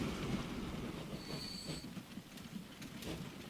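Trains run in the Transport Fever video game, giving a faint rolling rumble with clickety-clack wheel beats and a brief high wheel squeal, with no talk.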